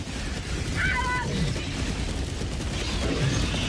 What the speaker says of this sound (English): Orbital Gatling Barrage going to be putting some pain down, getting that charger pretty low on health